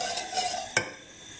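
A spoon stirs nacho cheese sauce made with milk in a pan over medium-high heat, giving soft scraping and a faint sizzle, with one brief clink of utensil against the pan.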